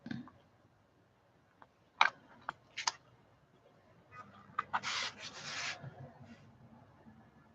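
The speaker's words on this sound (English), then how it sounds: "I'm trimming off my edges here that I don't want." A blade trims the edges off a polymer clay veneer in close, quiet sharp clicks and taps, followed by a denser patch of scraping and rubbing strokes.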